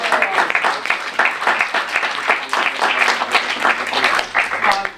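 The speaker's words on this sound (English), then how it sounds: "Let's give her a warm applause." A film screening audience applauds a director introduced on stage, loud, close clapping that swells and holds with irregular peaks, plus faint voices mixed in.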